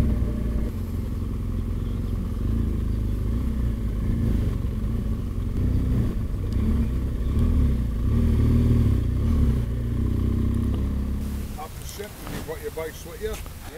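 A touring motorcycle rides on a road in the United States, its engine a steady low drone mixed with rushing wind for several seconds before the noise eases off near the end.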